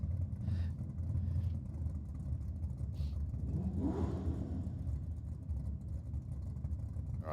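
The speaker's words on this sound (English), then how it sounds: "the BMW driver moving up to the start line now" A BMW drift car at a drift club event rolls slowly toward the start line, its engine giving a steady low rumble and whir throughout, with a brief swell in the middle and a little background chatter.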